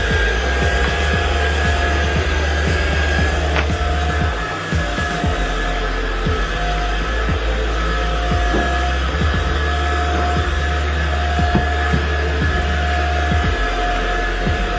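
An Ultenic U11 Pro cordless stick vacuum cleaner runs loud and close, sucking up red lentils with a continuous high motor whine and airflow roar that holds steady throughout, with no voices.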